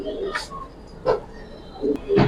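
Giribaz pigeons coo in a few soft, brief bursts spaced apart against a quiet background, with a faint voice nearby.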